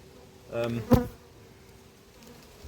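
Honeybees at an opened apiary hive, a short close buzz as a bee flies past the microphone over a quiet background, rising sharply to a brief loud peak before fading.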